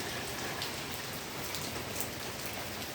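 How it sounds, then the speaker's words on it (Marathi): Steady rain falls on a farm field, a dense even hiss filling the whole stretch with no voices. "लगेच पाऊस सुरू झाला आहे."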